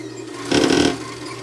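Short burst of a sewing machine running a zigzag stitch along a garment hem, a steady rapid needle chatter lasting under half a second, close and fairly loud against quiet room noise.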